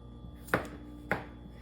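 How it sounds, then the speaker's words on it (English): Two crisp knife chops land on a cutting board a little over half a second apart as washed, unpeeled potatoes are cut into quarters, close up with a faint steady hum behind. "And then I'm just gonna cut these into quarters."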